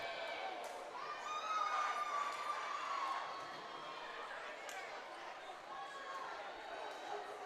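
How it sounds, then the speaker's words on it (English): Applause and cheers rise from the bench and fan section at a North Dakota high school volleyball match in a gym, Valley City against Central Cass. The noise is a steady, moderate crowd wash with shouts and a sharp whistle-like tone. "Mitchell checks out to a nice round of applause from her bench and fan section"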